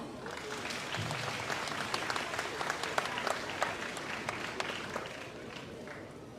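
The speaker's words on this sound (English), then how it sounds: "Give them a round of applause." Audience applause for a children's band at the Bala Vihar Show 2024, a sustained burst of clapping from a crowd that carries evenly across the whole stretch before easing slightly at the end.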